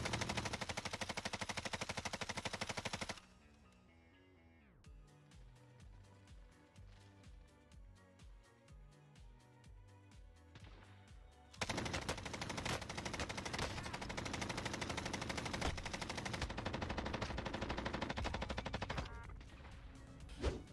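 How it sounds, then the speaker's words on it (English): In the Warzone video game, a mounted light machine gun fires long sustained bursts, loud and dense, broken by a quieter stretch of steady rhythmic thumps before heavy continuous fire returns. "Perhaps the best way to deal with the juggernauts is to just mount your LMG and aim for the head."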